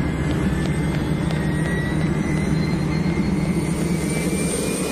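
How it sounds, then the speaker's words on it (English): A NASA high-altitude jet aircraft gives a steady, loud engine roar with a faint rising whine, continuous and unbroken throughout with no voices. "NASA has a high-altitude jet specially designed to gather space dust."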